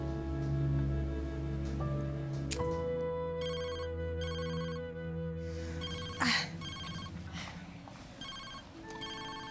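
A telephone rings in a domestic drama scene, with repeated electronic tone bursts in an even on-off pattern heard over a faint musical tone, fairly close and moderately loud, with no talking.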